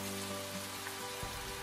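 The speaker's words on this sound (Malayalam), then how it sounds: "നമുക്കിത് ഇടയ്ക്ക് ഇളക്കി കൊടുത്തുകൊണ്ട് നന്നായിട്ട് ഫ്രൈ ചെയ്തെടുക്കണേ" Fish pieces fry in hot oil for a fish pickle, a steady dense sizzle filling the short clip at moderate level with a faint stirring clink near the end.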